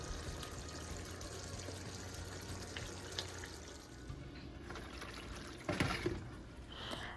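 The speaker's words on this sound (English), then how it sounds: "I'm now running some cold water on the boiled saltfish." Cold tap water runs steadily over boiled saltfish in a kitchen sink, a continuous close splashing rush with a brief louder surge near the end.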